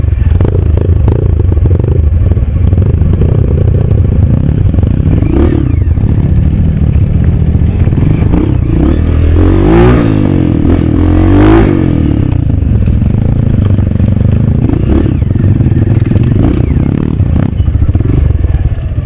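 A Honda CRF230 dirt bike revs and labours along a rough trail, its engine loud and close throughout, surging hard near the middle amid clatter and scraping from the terrain.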